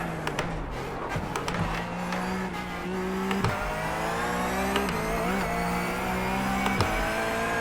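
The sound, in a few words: car engine and braking in a racing sim video game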